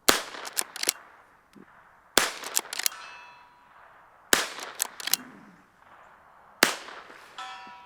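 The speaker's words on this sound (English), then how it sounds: "we're gonna just fire a few rounds here, see what the recoil is like, and even see if I can hit the steel out here at 100" A powerful rifle fires four spaced shots outdoors at a steel target 100 yards away, each a sharp loud crack followed by a ringing metallic ping and echoing tail, with quieter clatter between shots.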